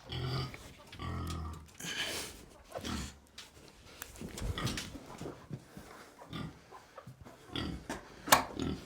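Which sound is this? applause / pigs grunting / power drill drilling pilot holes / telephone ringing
pigs grunting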